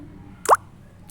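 A single soft plop as about two spoonfuls of ginger paste drop into a bowl, one short wet thud in an otherwise quiet kitchen.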